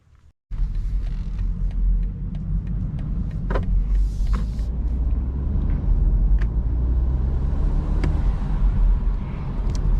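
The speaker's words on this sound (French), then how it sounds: "c'est parti pour la conduite de nuit à bord de cette série 4 cabriolet" Steady low rumble of a 2021 BMW 420i Série 4 convertible cruising at night, heard from inside the cabin, constant road and engine drone with a few faint clicks and ticks.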